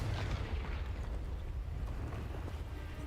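Booming fire-spell blast from the Confringo charm in the Hogwarts Legacy video game, a dense low rumbling explosion sustained loud throughout with crackling texture.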